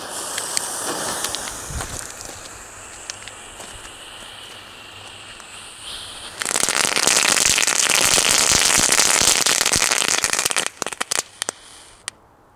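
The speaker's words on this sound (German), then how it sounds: "die sehen eigentlich aus wie so kleine Böllerchen" Small Norma firecrackers outdoors on New Year's Eve, a long fizzing hiss with scattered sharp crackles that swells into a dense, loud crackling burst before ending in a few last snaps.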